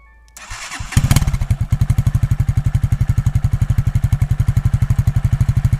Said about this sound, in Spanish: ahí podemos escuchar lo que es el sonido a ralenti. Es un sonido bastante suave